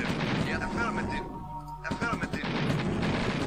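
A Gatling gun rattles in Command and Conquer: Red Alert, loud and continuous, dropping out briefly midway before the burst resumes, with a voice talking over it.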